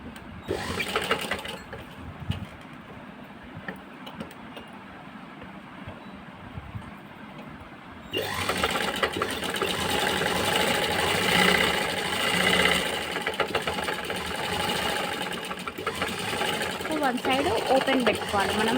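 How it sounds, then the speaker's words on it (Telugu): A sewing machine stitches cloth for a handmade handbag, running in a steady mechanical whir that grows louder and fuller partway through and continues to the end, with a person talking over it. "ఆ షేప్లో స్టిచ్ చేసేసుకోవాలి"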